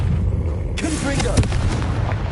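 The Confringo spell in Hogwarts Legacy goes off as a sudden loud blast, followed by a crackling burst and a few booming thuds over a steady, noisy game background.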